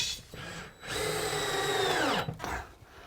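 A power drill drives a screw to fix a wall shelf, one sustained whirring run that slows and drops in pitch as the screw seats, with short spins before and after.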